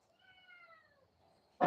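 A single drawn-out cat meow, close and fairly clear, followed by a brief sharp noise at the end.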